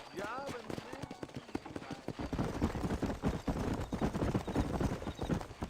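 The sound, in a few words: horse hooves in Red Dead Redemption video game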